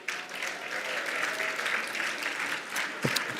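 Audience applause fills a gala evening for an ALS foundation, a steady wash of many hands clapping at a moderate distance, holding evenly for a few seconds with a brief louder burst near the end.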